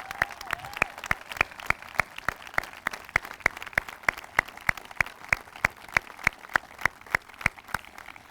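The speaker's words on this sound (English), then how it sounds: "let's give them a round of applause for what they have done for our country" At a veterans memorial dedication ceremony in Andover, Minnesota, clapping rings out in a steady, evenly paced beat, about three sharp claps per second, moderately loud with a faint crowd murmur beneath.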